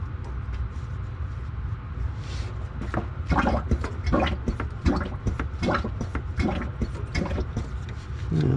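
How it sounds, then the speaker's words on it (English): Fluid is pumped out of a VW Bus through a tube, giving a continuous wet gurgling and slurping with irregular bubbly pulses and drips over a low steady rumble, close by. "I got the tube in there and I've already started pumping everything out"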